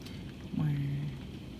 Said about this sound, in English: This is global warming rain.